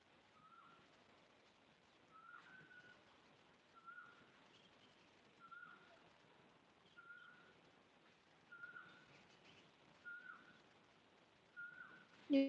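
A faint, short whistled bird call repeats at a steady pace, roughly every second and a half, against quiet background noise.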